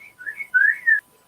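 A person whistles to imitate a pigeon: a short run of soft, sliding whistled notes, two louder swelling phrases toward the end, close and alone with no talking.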